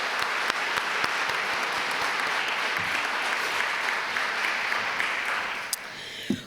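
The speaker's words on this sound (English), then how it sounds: "can we give ourselves a round of applause?" A large audience at an awards ceremony bursts into a round of applause, dense steady clapping held for several seconds and tapering off near the end, with a few louder individual claps standing out.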